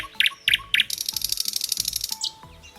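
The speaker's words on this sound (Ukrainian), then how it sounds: "легко почути, як соловей заливається, свистить, тьохкає" A nightingale sings close by, opening with a few sharp separate whistles, then breaking into a rapid, rhythmic trill of repeated notes, clear and loud.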